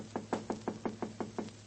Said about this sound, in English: Herbert, give us a knock on the door.